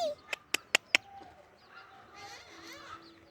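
A pet parrot lets out four sharp, loud calls in a quick evenly spaced burst, followed by softer warbling chatter and whistles in an outdoor garden setting.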